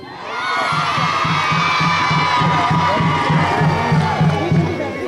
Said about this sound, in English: So, Girls Brigade, give me a cheer.